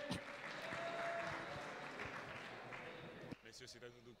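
An audience applauds the casters at the Gamers Assembly 2015 FIFA final in Poitiers. Dense, steady clapping fills the hall for about three seconds and then cuts off sharply, with a voice speaking over it.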